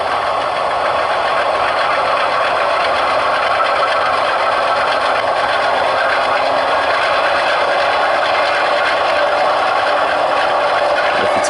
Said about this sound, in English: you can hear it'll start notching up by itself because it's got a load.